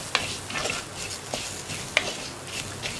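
Drumstick leaves stirred and sautéed in a pan for moru curry: a soft frying sizzle broken by several sharp spoon scrapes and clicks against the pan, close by, with no speech.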